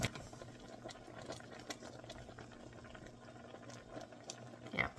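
Apples simmer in a pot for apple butter, a soft, close bubbling with irregular small pops and blips that stays quiet and steady and has no talking over it.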